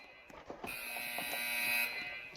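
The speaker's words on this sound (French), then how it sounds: "Donc il y a un bruit d'alarme." Electronic alarm buzzer triggered in the SCP RP game, a loud steady harsh tone that starts abruptly after some brief clicks and holds continuously.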